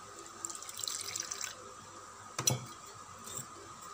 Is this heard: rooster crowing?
no